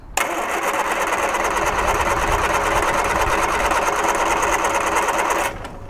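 An abandoned 1978 Triumph Spitfire engine that had sat for years cranks on the starter in one continuous, loud, rapid whirring churn lasting over five seconds without catching, then cuts off.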